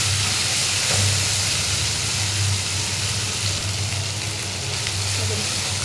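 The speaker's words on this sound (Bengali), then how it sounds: "ততক্ষণ আমি এটা ভাজতে থাকবো।" Onion, ginger and garlic paste fries in oil with a loud, continuous close-up sizzle and hiss that stays steady throughout, over a faint low hum.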